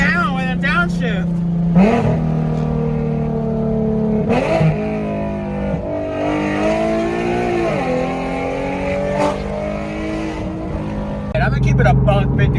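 A car fitted with test pipes and a straight pipe, heard with the windows down: a loud, raspy exhaust drone that rises and falls through revs and a downshift, close to the microphone, with a voice talking over it at times.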